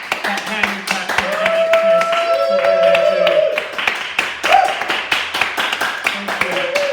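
An audience at a live West End charity music session claps along in a steady, rhythmic tapping pattern for several seconds, fairly loud, with a sustained sung or played tone and some voices mixed in.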